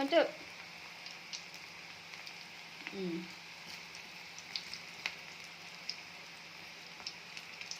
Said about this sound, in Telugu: ఇప్పుడు పకోడీ వేస్తాం చూడండి